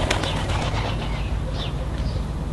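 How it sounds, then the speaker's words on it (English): Pigeons near an outdoor solar shower column make soft cooing and wing flutters amid loud, rough wind-like outdoor noise that stays steady throughout. "And obviously the birds are wanting a shower as well."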